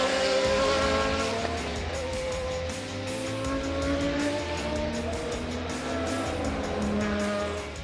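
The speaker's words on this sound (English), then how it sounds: "Peugeot 905 with its howling V10 engine" Peugeot 905 Le Mans race car with a V10 engine at the 2019 Spa-Classic: a loud high-pitched howl rising and falling through gear changes as it accelerates, close and continuous, with no talking.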